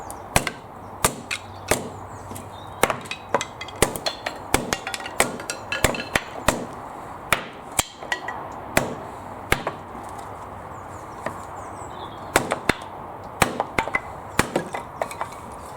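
Roughneck 1.1 kg kindling splitter driven into timber, giving a long run of sharp, close wooden chopping strikes at an irregular pace, each a crisp loud crack over a quiet outdoor background.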